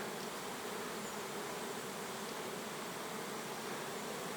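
A soft, continuous hum of many bees fills the air at a distance, steady and unbroken with no voices.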